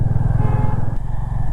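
A Hero Mavrick 440 motorcycle rumbles deeply while being ridden on a morning road, its steady low, throbbing engine pulse loud and close with a faint clatter and no talking.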